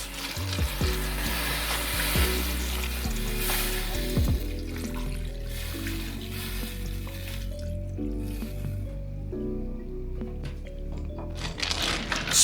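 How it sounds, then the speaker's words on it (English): Water goes into a hot pan of noodles for one-pot mac and cheese, bringing close sizzling and bubbling with stirring and clinks of the pan throughout. "Then add enough water to cover the noodles."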